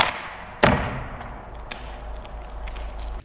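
A 55 gram candle is fired from a rubber-powered launcher over a chronograph, giving one sharp, loud thump and snap, followed by faint outdoor rustle and low wind.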